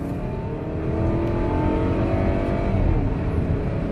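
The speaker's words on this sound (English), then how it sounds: "You can hear the engine." A Volvo XC40 T4 FWD engine roars loudly and continuously under heavy acceleration, heard from inside the car, its pitch climbing steadily, with road and wind noise underneath.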